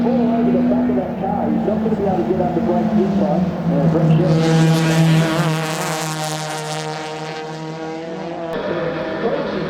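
Hyundai Excel race cars battling for the lead on a circuit, engines droning loudly and shifting pitch as they pass, with a commentator talking over the noise.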